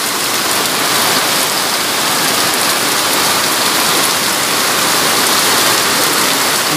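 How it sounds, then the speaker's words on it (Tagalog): Heavy rain pours down steadily, a dense, loud hiss of drops drumming on surfaces with no break. "Grabe, ang lakas ng ulan."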